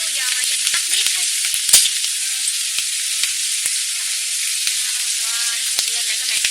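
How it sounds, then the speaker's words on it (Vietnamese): Rice-flour macaroni dropped into hot oil fries with a loud, continuous close sizzle, broken by a few sharp crackles and a brief bump partway through. "Bây giờ mình cho nuôi vô mình chiên."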